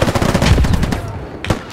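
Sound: PKM machine gun firing close, Squad video game

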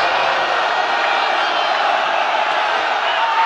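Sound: crowd cheering at a sepak takraw final

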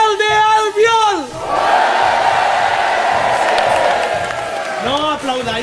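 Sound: studio audience applauding and cheering

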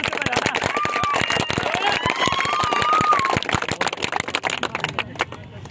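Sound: applause, people clapping loudly

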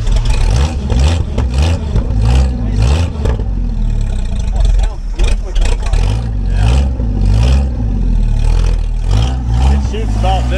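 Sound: 1976 AMC Pacer engine running

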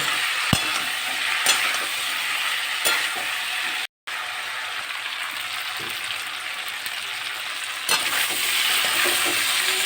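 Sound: spices with chili powder frying and being stirred

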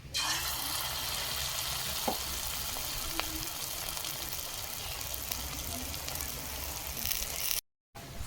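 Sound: water lily flower fritters frying in oil

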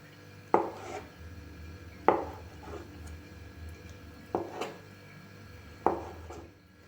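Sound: knife slicing eggs into thick strips

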